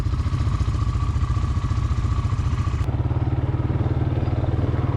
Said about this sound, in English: So John is driving the ATV that he and Steve limped over to the mechani